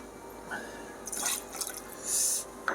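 Spiced tomato juice poured into a measure for a Bloody Mary cocktail, a short thin trickle and a few drips, then a brief fuller pour near the end, close and quiet.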